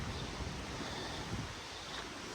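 Steady, dense outdoor wind at Luxulyan Water Mill roaring and buffeting across the microphone, constant throughout with a low rumble and no voices.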